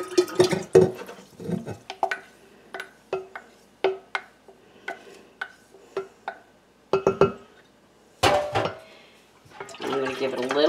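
Fermented ginger ale is poured into a glass container, liquid splashing in short bursts amid sharp glass clinks and knocks, all close and fairly loud.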